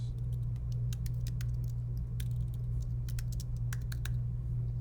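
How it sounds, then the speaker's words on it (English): Steady clicking of keys on a computer keyboard, irregular taps over a low electrical hum, close and fairly quiet. "start typing like this"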